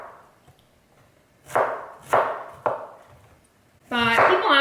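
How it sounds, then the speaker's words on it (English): Cauliflower is chopped with a knife on a board in three firm, evenly spaced thunks, close and clear, followed by a person starting to talk. "having to chop your own cauliflower"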